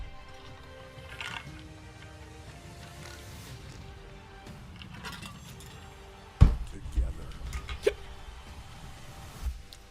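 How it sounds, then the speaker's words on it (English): A person's hiccups come as several short, sharp, close bursts in the second half, standing out against a quiet background of low room noise with faint sounds from a live stream. "These hiccups are gonna make me fucking scream."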